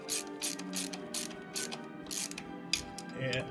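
Ratchet tightening screws on the disc of a 1943 Willys Jeep under restoration, a rapid run of close metallic clicking strokes in short bursts, with no talk.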